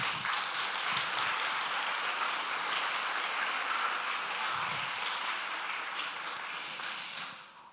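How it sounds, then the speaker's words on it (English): A moderate round of applause for a pupil at a P7 school prize evening, a crowd of hands clapping steadily before tapering off at the end. "let's give him a round of applause"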